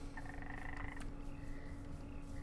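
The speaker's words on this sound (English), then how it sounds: "That's a frog." A frog croaks in a swamp in the Minecraft SevTech modpack: a few short raspy croaks near the start, then quieter ones, over steady ambient game background noise.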